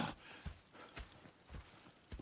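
Horses in the video game Red Dead Redemption 2 walk with a steady clip-clop of hooves, four or five dull thuds spaced evenly at close range, alone without talk.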